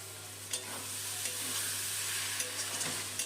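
Small pieces of mutton fat frying with a cooked-down spice paste for ghugni give a steady close sizzle, with a few soft stirring scrapes scattered through it.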